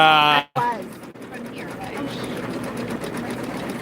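Multi-needle sewing machine satin-stitching webbing at 1,000 stitches per minute, a steady rapid mechanical whir after a brief tonal hum cuts off.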